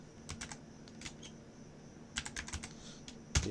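Quick bursts of keystrokes on a computer keyboard as a localhost URL is typed, clustered in short runs with brief pauses, close and fairly quiet with no voices.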